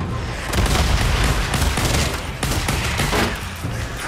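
Dense, continuous video-game gunfire from a shotgun, pistol and sniper rifle during a sawmill horde fight, with rapid overlapping shots and booms filling the whole stretch at high volume.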